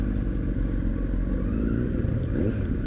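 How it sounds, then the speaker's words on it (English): Several motorcycles on a group ride out, engines droning steadily and close throughout, with a continuous rumble and some clatter and no talking. "A few bikes out today."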